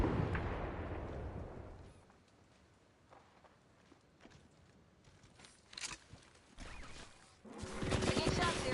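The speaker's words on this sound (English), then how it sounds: "Taking shots here. I'm getting shot at." Video game gunfire comes in scattered bursts of shots and impacts, loud at the start, then sparse and quieter mixed with movement noises, and rising again in a heavy volley at the end.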